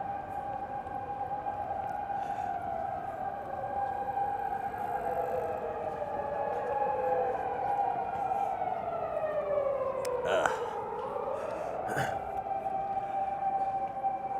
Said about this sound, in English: Sirens every 2 seconds.